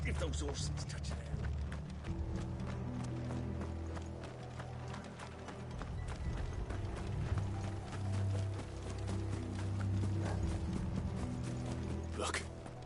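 Horse hooves clip-clopping in the Final Fantasy XVI video game, a steady galloping patter of several horses running at close to mid distance, with a low rumbling bed and occasional sharp cracks.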